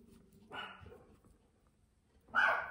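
Dogs barking at feeding time: two separate sharp barks indoors, the first moderate and the second louder and higher, with quiet gaps around them.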